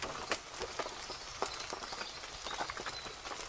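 Rain falls on a rooftop tent mounted on the back of a Land Rover at a camp: a steady hiss of drops with scattered sharper taps, constant and close, and no voices.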